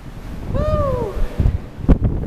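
Wind buffets the microphone on a ferry crossing to Martha's Vineyard, a loud rushing roar with gusty bursts, accompanied by a high whistling cry and a few knocks.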